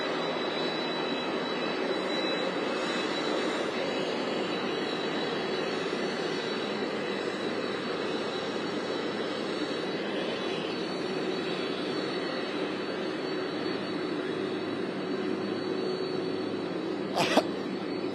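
Steady broadband roar of a nearby jet airliner carrying the Patriots team, heard from about 30 to 40 feet away at a San Jose airport arrival, loud and constant, with a brief sharp sound near the end.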